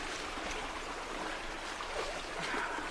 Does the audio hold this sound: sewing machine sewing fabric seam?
no